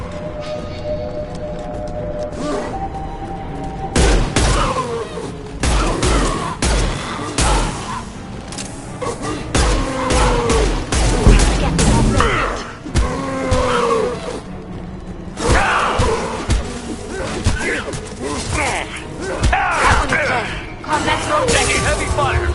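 Heavy gunfire from the Mass Effect video game: bursts of rapid shots and thuds that rise and fall, with voices talking over the combat throughout.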